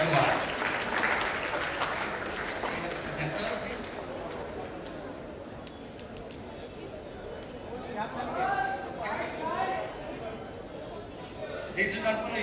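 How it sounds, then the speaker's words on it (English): Audience applause at a peace awards ceremony, steady clapping with crowd chatter and voices mixed in, swelling again toward the end as people talk over it. "A huge round of applause, ladies and gentlemen."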